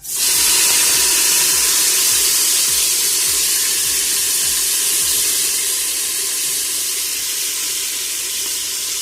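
Tomatoes added to a hot pan give a steady, loud sizzle with broad hiss, continuous and fading only slightly over several seconds.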